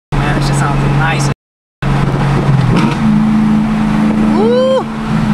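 A manual six-speed car's engine revs in a sharp rev-matched blip during a downshift, loud and close, after steady engine drone with a brief cut in sound and people talking over it.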